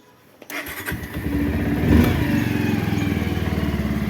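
A motorcycle engine cranks and catches after a brief silence, then settles into a steady, loud, close idle with an even throbbing pulse.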